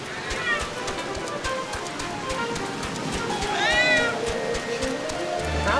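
A loud cat meows repeatedly for attention, rising, drawn-out cries over steady background game audio with people talking throughout.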